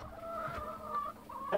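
Muscovy duck hens cluck and murmur quietly nearby while sitting on eggs, a few drawn-out calls and soft clucks in a calm indoor poultry shed.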